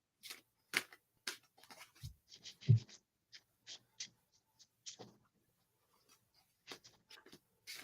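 Tarot cards are shuffled close by, making quiet, soft riffling and slapping taps in short uneven bursts, with brief pauses between them.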